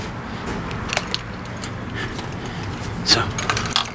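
A motel room key jangles in a few light metallic clinks and shakes, close by over a quiet background.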